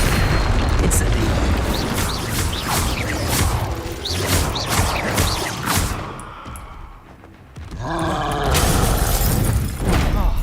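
Incendio fire spell cast in the Hogwarts Legacy video game, a loud roaring blast of flame and whooshing magic effects amid dense battle noise, briefly dropping away before surging again.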